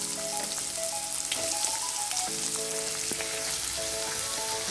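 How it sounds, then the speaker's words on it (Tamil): Finely chopped onion with fennel seeds sautéing in hot oil gives a dense, continuous close sizzle with faint scraping of a spoon, steady in loudness and with no speech. "வெங்காயம் நமக்கு கொஞ்சம் கலர் சேஞ்ச் ஆகி வரணும். நல்லா வதக்கிக்கோங்க"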